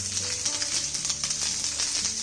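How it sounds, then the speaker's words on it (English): Large-diced capsicum and onion petals sauté in hot oil over a high flame, a loud, dense, continuous sizzle with faint stirring, and no voices. "and we saute this on high flame."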